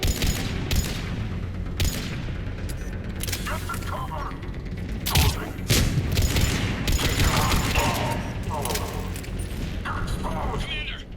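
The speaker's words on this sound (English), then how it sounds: "we're getting a lot of mortar fire" Dense gunfire and explosions in the video game Mass Effect 3, where Cerberus forces fight an advancing platoon under mortar fire. Rapid crackling volleys and booms run throughout, with heavier blasts around the middle, as voices talk over the battle.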